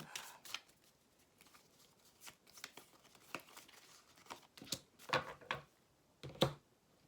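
Soft, close riffling and flicking of tarot cards being shuffled and drawn, a steady patter of light paper snaps with a few sharper slaps near the end.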